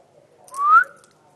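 A pet bird gives one rising whistle, close and fairly loud, lasting about half a second before quiet background returns.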